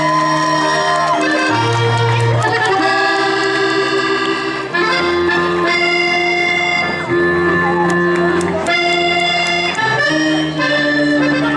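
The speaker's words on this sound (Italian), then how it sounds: "Anche per loro, mi raccomando, un applauso molto caloroso." A crowd at an open-air Sardinian folk event in Ploaghe cheers and applauds loudly and continuously for the Salvatore Manca folk group, with tonal music playing throughout.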